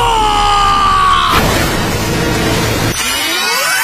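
In the Mashle anime, a trap that is actually a mine explodes with a sudden heavy boom that cuts through sustained tonal music, destroying climbing vines, then a crackling roar of debris rolls on before dying off under rising music.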